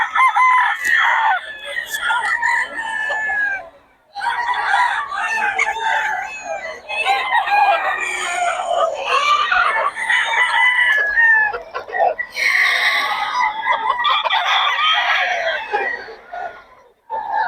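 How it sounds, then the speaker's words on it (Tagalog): A noisy flock of chickens clucks continuously while roosters crow loudly and repeatedly, close by, with brief pauses in the din. "Ang gulo ng mga manok dito."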